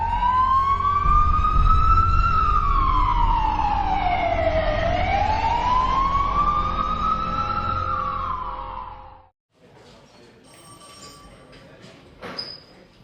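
An ambulance siren wails loudly and close, rising and falling in long sweeps for about nine seconds before cutting off, leaving faint background noise and a few small knocks.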